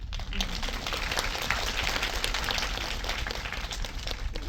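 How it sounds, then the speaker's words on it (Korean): Steady applause from an audience fills the room, dense and continuous clapping at an even level throughout. "네, 박수."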